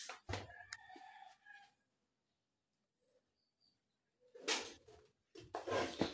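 Chickens cluck and a rooster crows in short, faint bursts outdoors, with quiet gaps between the calls and no one speaking.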